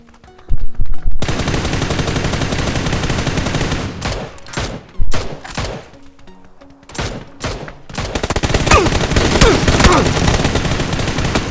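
Loud bursts of automatic gunfire in the mobile shooter PUBG: New State, rapid rattling volleys broken by short pauses and single cracks, with a long sustained burst toward the end.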